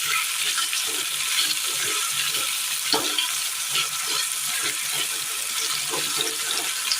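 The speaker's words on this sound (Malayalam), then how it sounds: "രണ്ട് പച്ചമുളക് അരിഞ്ഞത് ഒന്ന് ഇളക്കി കൊടുക്കുക" Chopped green chilies sizzle steadily in a frying pan for a Kerala dish, a constant bright hiss with soft rhythmic scraping of a spoon stirring through them and one sharper knock partway.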